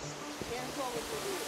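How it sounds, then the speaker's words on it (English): A three-tiered jungle waterfall in Belize gives a steady, broad wash of rushing water that fills the whole moment, with faint voices underneath. "if we walk out the other side, there's three layers of waterfalls"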